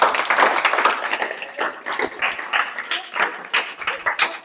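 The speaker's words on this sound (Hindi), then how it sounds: "शाबाश तालियां बजाओ भाई" A classroom group claps together in a burst of uneven applause that rises and falls through the whole stretch, with voices faintly mixed in.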